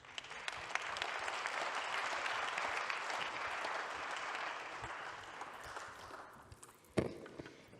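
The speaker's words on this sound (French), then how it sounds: "on l'applaudit très fort" A plenary session audience at a European health conference applauds warmly, broad continuous clapping that swells and then fades over several seconds, ending with a single sharp knock or thud near the close.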